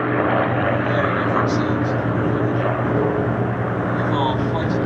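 Spitfire flying at the Sywell airshow alongside other Spitfires, a loud steady propeller engine drone droning continuously as the aircraft passes, with a commentator talking over it.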